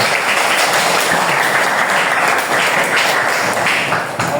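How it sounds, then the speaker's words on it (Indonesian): Students applaud in a classroom, a close, lively burst of clapping with individual hand claps audible in the mix, staying loud for a few seconds before easing slightly at the end. "Tepuk tangan."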